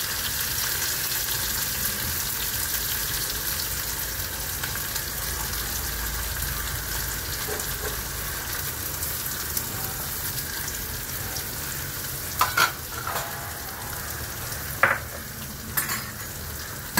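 Chopped onion with curry leaves and a pinch of asafoetida sizzles steadily in hot oil in a pan, a continuous frying hiss with a few scrapes of stirring near the end, no talk.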